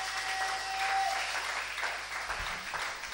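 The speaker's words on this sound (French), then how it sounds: "On acclame le Seigneur Jésus" A church congregation applauds in praise, soft steady clapping heard at a distance with a faint sustained tone and low hum underneath.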